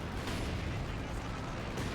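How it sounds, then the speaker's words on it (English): Company of Heroes 2 battle noise of a Katyusha rocket artillery barrage: a dense, rumbling rush of overlapping blasts and pops, sustained and fairly distant throughout. "We have 3 Katyushas on the field, so the artillery shitfest is surely coming in"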